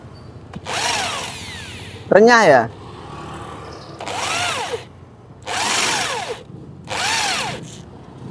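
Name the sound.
drill boring into broken Yamaha crankshaft bolt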